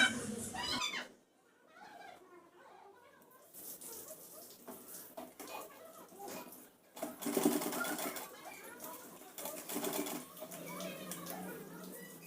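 Sewing machine stitching a Punjabi dress in back-and-forth finishing stitches, a quick mechanical whirring that runs in bursts with brief pauses, moderately close, with faint room noise.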